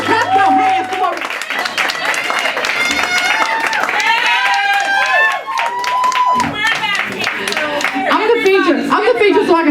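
Open mic audience in Bolton Hill clapping and cheering for a performer named Maurice, a dense steady burst of applause with whoops and voices mixed in throughout.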